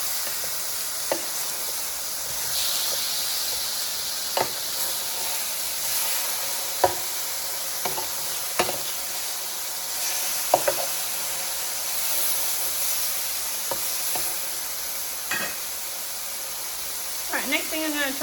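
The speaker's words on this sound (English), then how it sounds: "You can see my chicken's been cooking and you see some of it's white." Chicken pieces frying in a pan for a chicken wrap give a constant bright sizzle and hiss, broken by scattered sharp clicks and scrapes of turning. A voice talks quietly over the cooking.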